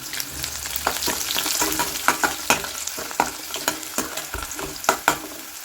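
Garlic and a sprig of curry leaves fry in hot oil, giving a constant close sizzle broken by sharp crackles and pops, with no voices.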